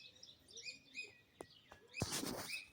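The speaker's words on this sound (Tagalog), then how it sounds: "Ito yung bahay ng mga ibon." Small birds chirping around a birdhouse in Israel, several quick tweets and calls nearby, faint and scattered, with a short burst of fluttering or rustling near the end.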